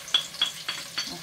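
Onion frying in hot oil, with soft stirring strokes that repeat about every quarter second over a faint, steady background sizzle, close up and fairly quiet.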